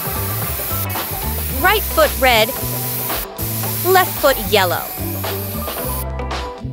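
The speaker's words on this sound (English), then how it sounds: "Cue the stencils and spray paint." Short hissing bursts of aerosol spray paint through stencils, several quick blasts with pauses between, with a person speaking throughout and music beneath.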